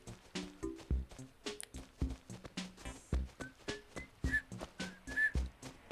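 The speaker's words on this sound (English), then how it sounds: "That wasn't a half bad whistle." Whistling in Animal Crossing plays as a short bouncy tune of clear tones over a steady rhythmic pattern of footstep-like taps, fairly faint and without speech.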